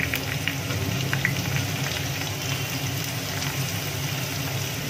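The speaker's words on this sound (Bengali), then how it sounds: "এবার আমরা আস্তে আস্তে এগুলোকে ভেজে নেব।" Bay leaf and cinnamon frying in oil in a home kitchen for fried rice, giving a steady, even sizzle that runs unbroken throughout at moderate level with no talking.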